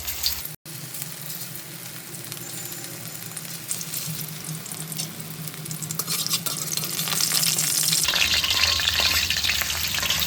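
Chicken pieces coated in cornflour deep frying in hot oil for street-style chicken noodles, a steady loud bubbling sizzle with stirring that swells louder and brighter near the end.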